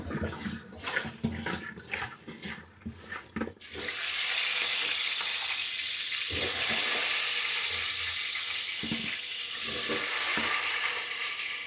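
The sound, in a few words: potatoes frying in a pan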